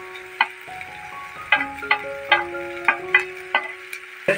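Diced potatoes sizzle in hot oil in a pan, a steady soft frying hiss broken by several sharp clinks and scrapes of a spoon stirring, close and fairly loud.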